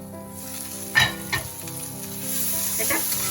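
Okra (ladies finger) sizzles steadily in a pan, with two quick scraping stirs early on and a constant frying hiss beneath faint background music.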